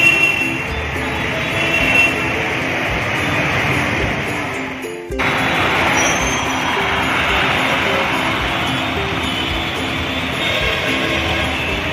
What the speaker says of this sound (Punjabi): ਤੁਸੀਂ ਦੇਖ ਸਕਦੇ ਹੋ ਮੈਟਰੋ ਬੱਸ ਆਈ ਹੈ